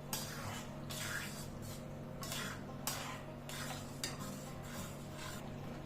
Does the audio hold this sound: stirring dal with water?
yes